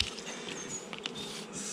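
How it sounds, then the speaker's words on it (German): Honey bees buzzing around an opened hive during an early-spring colony inspection, a steady close insect drone with scattered individual bee passes, no talking. "So, Achtung, wir haben hier Bienen rausgenommen."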